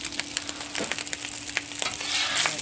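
Paella rice sizzles on a Blackstone griddle, a steady, quiet frying hiss with scattered pops and scrapes as it is stirred.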